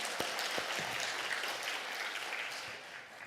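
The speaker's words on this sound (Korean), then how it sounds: "하나님께 영광의 박수 올리시기 바랍니다." Church congregation applauding during a worship service, a dense, continuous wash of clapping heard from within the hall, steady and moderately loud before tapering slightly at the end.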